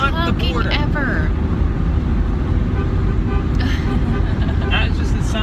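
Car horns honk in long repeated blasts near a border crossing, set against continuous loud road and engine noise, while voices talk over the din.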